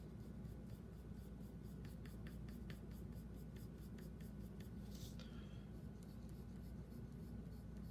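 A pencil drawing an amethyst sphere on paper, soft rapid scratching strokes in quick repeated runs over a steady low hum, close and faint.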